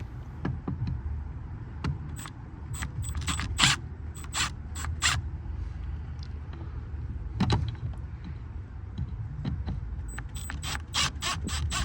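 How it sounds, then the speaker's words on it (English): A T15 Torx driver backs out the two screws on the mass air flow sensor of a 2007–2013 Chevy Silverado, giving close, sharp clicks and ticks in uneven bursts over a low background. "Using a T15 torque, you're going to remove these two screws."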